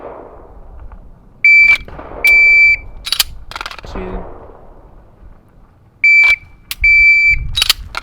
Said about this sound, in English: prepping my trigger before that second beep on the par time